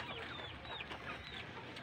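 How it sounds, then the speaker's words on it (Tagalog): Native chickens cluck and chatter steadily outdoors near a rural home, several birds overlapping in a busy, continuous flock sound at moderate distance. "Marami din kaming manok, guys. Native chicken."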